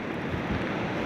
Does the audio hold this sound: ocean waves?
yes